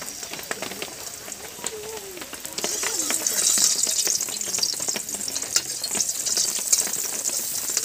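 Onions hitting hot oil in a pan with a green chilli, cooking for a rohu fish kalia; a close, rising sizzle that builds into steady crackling hiss, with brief faint voice earlier.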